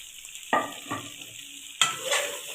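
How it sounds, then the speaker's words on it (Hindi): A spoon stirring chicken kofta curry in a pot, giving a few soft scraping strokes under a faint sizzle and a steady high hiss, with no talk. "कोफ्ते डालने के बाद इसको हम लोग अच्छे तरीके से हिला लेंगे।"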